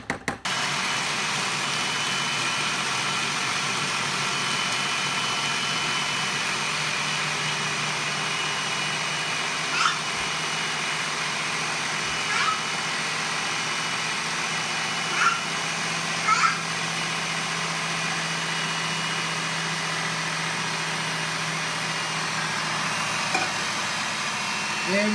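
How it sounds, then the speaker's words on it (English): A blender runs steadily, whirring through a cashew mix for vegan cheese. The even, continuous drone lasts throughout with a few faint clicks. "As the blender is going, we're going to mix this in with our cashew mix."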